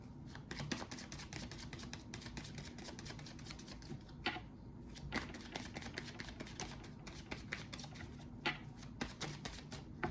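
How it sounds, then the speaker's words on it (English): Tarot cards being shuffled up close, crisp riffling bursts repeating steadily with soft rustling between, fairly quiet and without any talking. "We're going to go ahead and shuffle the tarot."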